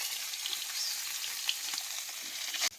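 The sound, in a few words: fish frying in a pan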